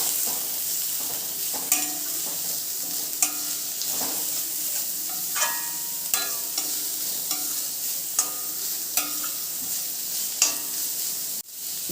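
Cabbage, capsicum, carrot and beans stir-fried in a pan, a constant sizzle with regular scraping and clinking strokes of a spatula, close and clear, with no one speaking.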